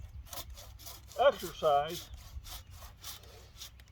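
Hand saw cutting wood on a farm, a steady back-and-forth rasp of strokes repeating roughly every half second through the clip, with a voice briefly speaking over it midway.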